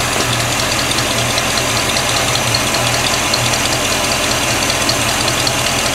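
A 1957 Chevrolet Bel Air with a 283 V8 idling after a tune-up with freshly set timing, a loud, close, steady rumble with an even lumpy pulse throughout.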